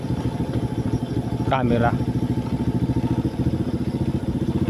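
Motorcycle engine running steadily while being ridden, a continuous mid-pitched drone throughout with a brief clatter partway through, close and loud, with someone talking over it.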